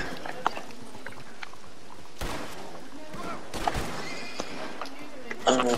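A horse whinnies in a video game amid scattered hoof clatter and a short burst of noise near the end, with people talking over it.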